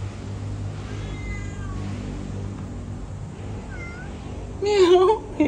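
A cat in the Philippines gives a loud, close, wavering meow near the end, after quieter tonal calls earlier over a steady low background hum.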